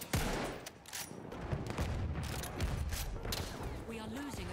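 Gewehr 95 marksman rifle firing in Battlefield 1, with sharp shots scattered through steady battlefield noise and other distant gunfire, and a voice speaking over it.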